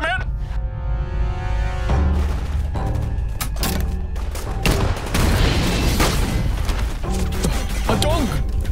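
In the Thai-dubbed Chinese action film Sniper Vengeance, loud gunfire and heavy booms go off again and again in a dense battle, with voices talking over the shooting.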